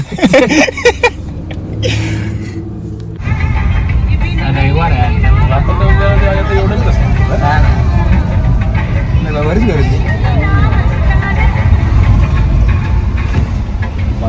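A car drives along a road on a trip to Khopoli, its engine and road noise a steady loud rumble throughout, with people talking over it.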